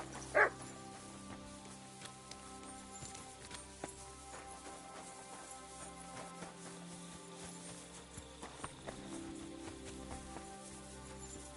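A dog in the video game Kingdom Come: Deliverance II gives one sharp bark near the start, then faint yips and whimpers over quiet ambient game sound.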